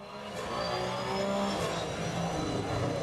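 A Porsche GT3 Cup race car in a sim-racing game at Misano holds a high gear, its engine droning loudly and steadily at near-constant revs, with a faint high tire squeal.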